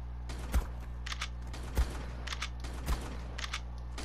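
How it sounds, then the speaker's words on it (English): Three evenly spaced shotgun blasts in the ARK video game during a boss fight against a manticore, sharp booming reports about a second apart over a steady low game hum. "There, shotgun the manticore."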